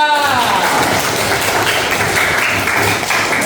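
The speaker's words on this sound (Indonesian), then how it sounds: "Tepuk tangan buat kelompok 4." Group applause in an Indonesian school classroom for a presenting student group, a steady dense wash of clapping lasting throughout, moderately loud with some voices mixed in.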